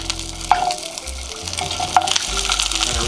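Dollar Tree potstickers sizzle and fry in a hot pan, a steady close hiss with a couple of sharp crackles and stirring clatter, no talking.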